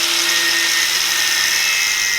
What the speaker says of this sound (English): just do it with a grinder